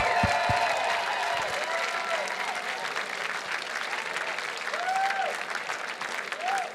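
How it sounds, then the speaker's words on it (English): Gala audience applauding three racers at the Mountaineers annual gala, a steady, full crowd applause that continues throughout, with faint cheers and murmured voices mixed in. "Friends, one more round of applause for our three incredible racers."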